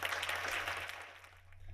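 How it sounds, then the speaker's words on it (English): Brief, faint audience applause at a climate and energy symposium, a soft wash of clapping that fades slightly toward the end. "Let's give him a round of applause."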